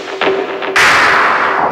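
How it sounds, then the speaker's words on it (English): An Elektron Machinedrum sound with an LFO sweeping its filter: a couple of soft pulsing hits, then a bright, noisy burst that holds loud and steady to the end. "And I also put an LFO controlling the filter"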